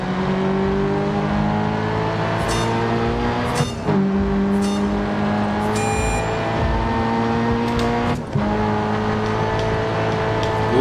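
A race car engine in Grid Autosport drones at high revs with steady harmonic whine, dipping briefly as gears shift around the fourth and eighth seconds before climbing again, loud and continuous with no talking.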